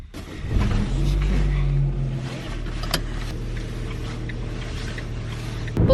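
A car being driven gives a steady low engine hum and road rumble from inside the cabin, with a deeper drone early on, a few small clicks and a thump at the end.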